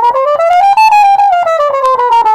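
A trumpet plays a jazz line transposed down a step: a clear, loud run of legato notes that rises and then falls, played solo with no talking.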